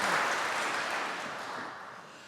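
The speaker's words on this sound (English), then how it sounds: "Please give him a round of applause" Audience applause at a climate emergency innovation conference in Cork rises as a dense wash of hand claps and then fades gradually over a couple of seconds.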